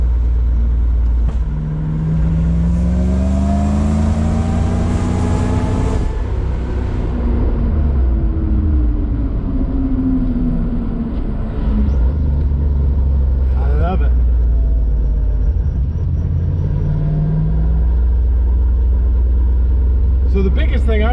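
Supercharged Toyota Supra engine, running with its intercooler not yet connected, heard loud from inside the car as it pulls hard; revs climb in rising sweeps, drop back, then surge again with steady, throaty rumble underneath.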